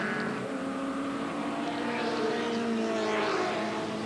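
Holden Commodore racing car spinning on a track in a 1986 AMSCAR touring car race, a continuous roar of race engines with shifting pitch, heard at a moderate distance without clear talk.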